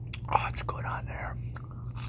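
Ezekiel bread topped with grated cheese is bitten and chewed close to the microphone, with a crisp bite followed by soft, moist mastication at a quiet level.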